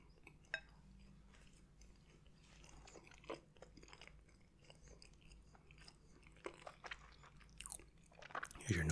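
Close-miked biting and chewing of a crunchy chocolate doughnut, with soft, scattered crisp crunches and wet chewing clicks over a quiet background, building to louder bites near the end.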